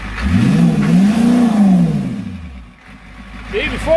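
A 7.3 IDI diesel in a U-Haul truck runs with a loud, near engine note that swells and eases over the first couple of seconds, then dips and rises again.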